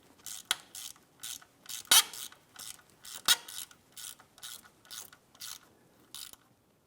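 A hand ratchet clicks in about a dozen short, evenly spaced bursts as it tightens a bolt on a 1997–2006 Jeep Wrangler front brake assembly, close and fairly quiet, with a couple of sharper metallic knocks and no talking.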